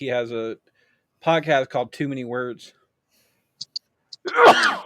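A person sneezes sharply into a podcast microphone, one loud burst after someone speaks, with brief faint noises in the pause before it.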